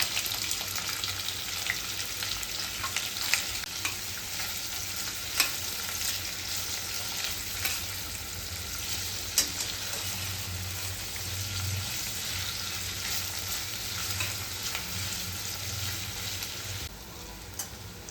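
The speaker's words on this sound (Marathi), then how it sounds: "कांदा पण टाकून घेऊ फ्राय करायला." Onion frying in a pan with whole spices, a steady dense sizzle running for the whole stretch with a few sharp pops and crackles, close and moderately loud, ending slightly quieter.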